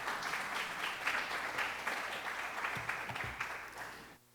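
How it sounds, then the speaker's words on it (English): Church audience at First Missionary Baptist Church applauding a woman at the stage: steady, full crowd clapping heard at a moderate distance, swelling slightly and then fading out near the end. "Let's give my homegirl a round of applause."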